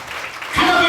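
Church congregation breaking into applause during a live Telugu sermon service, with a sustained burst of clapping rising in the latter half, building over quieter crowd murmur.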